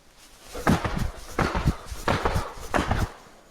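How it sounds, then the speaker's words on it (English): Four quick bursts of double slapping sounds, evenly spaced, each a pair of sharp hand smacks on the legs during a jump, close and fairly loud. "We're going to elevate high enough to where we can slap the leg 2 times."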